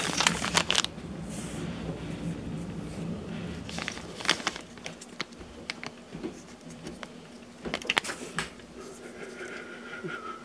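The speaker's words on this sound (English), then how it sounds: "take off stickers now" Stickers being peeled off a HashAltcoin BlackMiner F1 Mini FPGA mining board with a Xilinx Kintex 7 chip, heard as close, irregular crackling and tearing rasps in several short bursts over a low steady hum.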